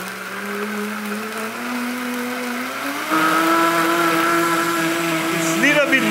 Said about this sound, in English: I have a great blender, okay? This is a good tool to have.